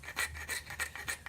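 Four evenly spaced rasping strokes of a 6-inch rounded rasp bit scraping and rounding wooden cross edges, bright and gritty, close up with no talking.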